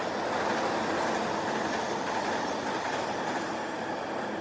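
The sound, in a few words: New York subway train riding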